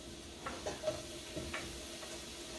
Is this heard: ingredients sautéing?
yes